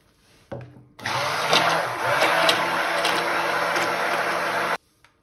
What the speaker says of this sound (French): Et je viens donner un coup de mixeur dedans.